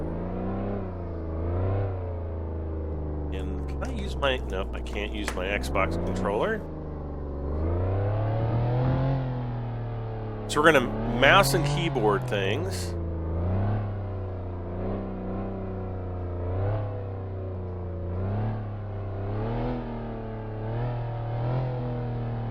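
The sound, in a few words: car engine running and revving in video game Flashing Lights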